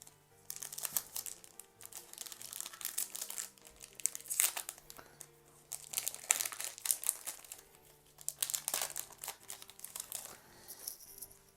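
A Pokémon booster pack from the Ténèbres Embrasées set being torn open and handled up close, bursts of crinkly foil rustling and ripping in several separate spells, quiet with no talk.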